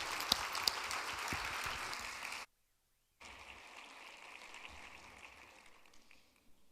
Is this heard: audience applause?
yes